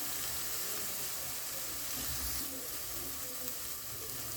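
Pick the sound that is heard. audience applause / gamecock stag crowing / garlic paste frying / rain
garlic paste frying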